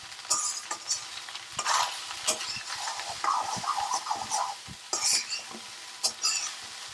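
Egg fried rice stirred in a pan with a metal spoon: repeated scraping and clinking strokes over a continuous sizzle, close and fairly loud, with no talking.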